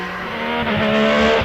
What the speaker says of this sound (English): And away goes the Pilbeam.